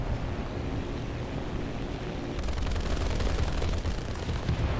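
Dense machine-gun bursts from a CR.42 biplane in War Thunder, a rattling continuous roar over droning engine and wind that grows louder and busier about halfway through.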